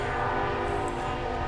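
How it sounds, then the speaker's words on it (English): A passing train sounds its horn in one steady, loud, sustained blast that fills the whole moment, close by and heard alone with rumbling underneath. "That is a train."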